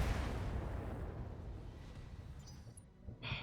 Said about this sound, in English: let's shoot just the Streak SRM-4